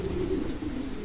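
A pigeon gives a single soft, low coo in a La Union pigeon fancier's loft, faint and brief against a quiet background.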